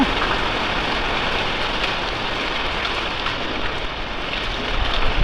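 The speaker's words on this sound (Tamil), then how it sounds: "இப்போ செம காத்தடிக்குது" Strong wind blowing hard outdoors, a dense, steady roar of rushing air that stays loud and unbroken throughout, with no voices.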